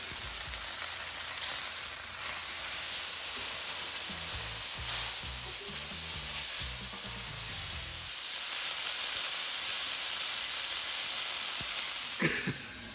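Food fries on a hot griddle with a steady, close sizzle and hiss throughout, a few soft low knocks partway through, and no talking.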